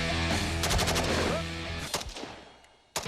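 Bursts of machine gun fire at an outdoor Texas shooting range, rapid automatic shots in close succession, loud and near, tapering off before a final sharp shot.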